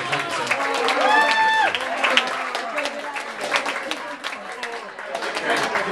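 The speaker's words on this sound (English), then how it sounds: "Give them a big round of applause." A crowd at a drink-mixing competition applauds the contestants with a steady wash of clapping and some cheers, while a voice carries over the top and a brief whistle-like tone rises partway through.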